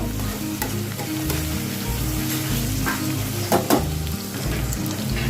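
Washed dried fish frying together in a pan, a loud continuous sizzle with crackling pops and occasional stirring scrapes, heard alone without voices.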